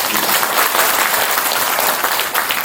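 A hall audience at a town-hall meeting with Ulsan's mayor-elect in Dong-gu claps loudly and steadily, a dense continuous wash of applause with no voices over it.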